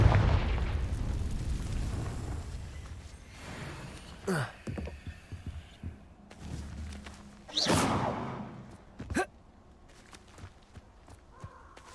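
Spell-cast explosions in the Hogwarts Legacy video game burst several times, sharp booms with whooshing tails spaced across a rumbling fight, while a voice calls out spell names over the action.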